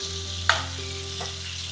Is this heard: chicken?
yes